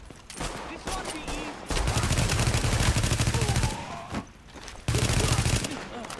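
Sustained bursts of automatic gunfire in The Division, a PC shooter, with bandits firing on a supply cache; dense, loud rattling volleys come in two long waves separated by a brief lull, with game music and effects layered underneath.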